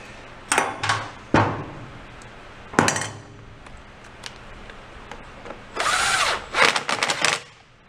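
A power tool with a socket tightens bolts on a lawn mower in several short bursts, each a quick whirring rattle, separated by quiet pauses and light metallic clinks, loudest in the final bursts.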